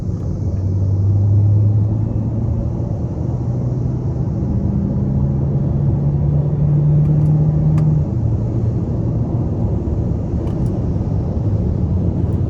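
A 2024 Hyundai Sonata Hybrid SEL accelerates hard from inside the cabin, a steady loud engine and road rumble with a rising drone through the middle, no talking.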